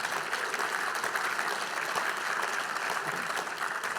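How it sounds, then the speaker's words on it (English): An audience at a political panel on Ontario and the trade war applauds in a hall with dense, continuous clapping that stays even throughout. "it's nice to know my political colleague, the mayor, is not the only one who can get applause in this room"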